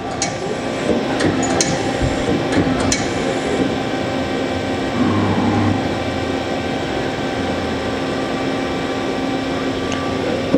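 The turret of a 2010 Doosan Lynx 300 CNC lathe indexes: a few sharp mechanical clicks and clunks, then a short motor whine, all over the machine's steady, loud shop hum.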